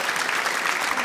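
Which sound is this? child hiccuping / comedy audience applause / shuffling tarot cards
comedy audience applause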